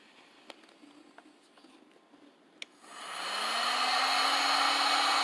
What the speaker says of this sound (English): what I'm going to do is hit this with the heat gun